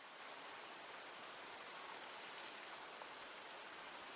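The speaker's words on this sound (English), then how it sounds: "you can hear the water falling if it's really quiet" A small stream spills off a rock edge at Cedar Breaks National Monument, giving a faint, steady hiss of falling water that runs evenly and alone with no voices.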